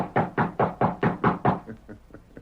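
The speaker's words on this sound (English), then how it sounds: "he rode to the Lazy N, dismounted, and rapped on the ranch house door" Knuckles rap on a ranch house door: six firm, evenly spaced knocks followed by several fainter ones trailing off.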